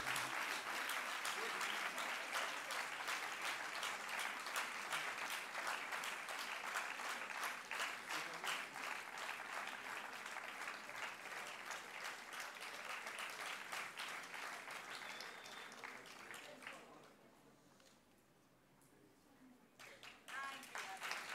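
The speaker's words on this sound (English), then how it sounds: "They deserve a huge round of applause." A school audience at Bal Bharati Public School, Pitampura gives sustained applause to Gold Trophy award winners for the 2021-22 session. The clapping stays dense and steady for nearly twenty seconds, fades briefly, then rises again near the end.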